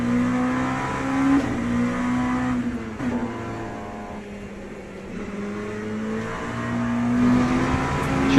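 The Oracle 07 LMP2 prototype race car in the Le Mans Ultimate racing game drones steadily, its engine note swelling and dipping through gear changes and throttle lifts, loud and continuous with no talking.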